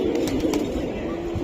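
A silver female Giribaz pigeon coos in a low, steady murmur that runs throughout, with faint bird chirps above it.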